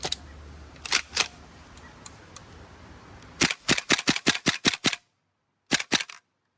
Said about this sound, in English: So like if I fire off a bunch of shots, right? And we'll go ahead and dump this guy on